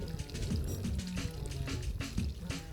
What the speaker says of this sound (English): It's really nice to sit down here and listen to the water when it's irrigating.